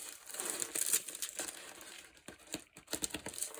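Clear plastic film peeled off a glued diamond painting canvas, heard as close crinkling and crackling with sharp tearing bursts, fairly quiet, no voices.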